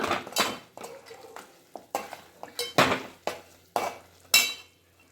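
Food being stirred in a cooking pot while making Urulee rasam, a tamarind-based dish, giving a series of separate clinks and scrapes of a spoon against metal at an uneven rhythm, close and moderately loud, with no talking.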